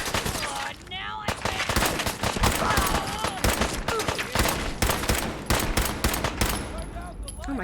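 Loud, dense bursts of automatic gunfire in a video game fight, nearly continuous and rattling for several seconds.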